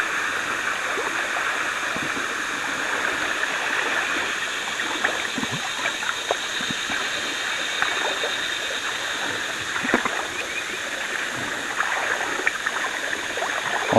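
Shallow river water runs steadily over rocks and gravel beside a gravel bar after a night of storms, a continuous close rushing and gurgling with no speech.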